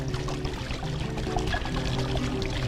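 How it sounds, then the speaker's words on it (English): Water from a waterfall kit pours steadily into a patio pond, making a close, continuous splashing flow with no voices. "If this is splashing a little much, you can just grab a real rock and use that as a dispersion rock"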